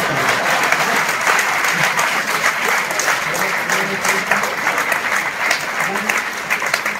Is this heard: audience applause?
yes